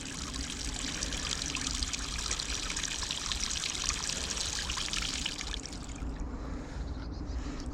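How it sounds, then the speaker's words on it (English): A pipe spurts black water in a steady, loud gushing rush that continues unbroken, the hiss thinning slightly toward the end. "it's blowing black water out of it"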